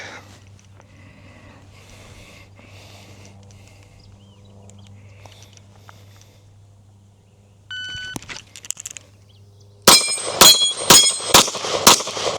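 After a long stretch of low hum, a shot timer beeps and a BUL Armory TAC 5 Stainless pistol fires a fast string of about six loud, sharp shots at a steel dueling tree, each shot followed by a ringing metallic clang.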